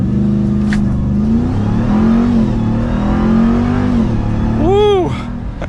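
A 2023 Ram TRX Havoc Edition pickup launches hard under launch control, its engine roaring loudly and steadily up through the gears for several seconds before easing off, with an excited voice briefly audible over it.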